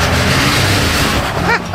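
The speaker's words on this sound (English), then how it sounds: "Throttle, a little bit of throttle." An off-road vehicle engine on a rocky Moab trail in Utah revving loudly under throttle, a dense close rumble that dips near the end, with a brief voice cutting in.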